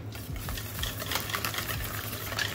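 A spoon stirs mayonnaise into celery in a bowl, a soft, continuous wet scraping and slapping with light clinks, moderately quiet and close, with no voices.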